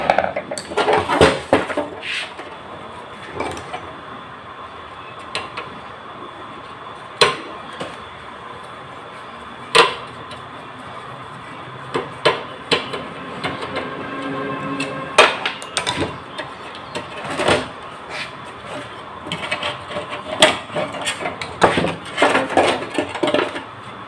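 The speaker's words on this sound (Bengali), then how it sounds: "দেখুন একটা নাট খুলতে যায় ঘাম বের হয়ে যাচ্ছে।" A stuck nut is worked loose while a cooking stove is taken apart for repair, with irregular sharp metallic knocks and scrapes of tools on metal, some louder clusters, close by and without talk.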